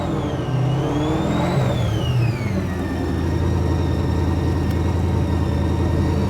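A Formula Drift Nissan 350Z drift car with an LS3 V8 engine revs loudly and close, its engine note rising, falling and then settling into a steady, throaty roar that runs through the whole stretch.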